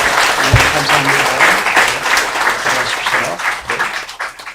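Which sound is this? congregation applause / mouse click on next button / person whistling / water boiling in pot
congregation applause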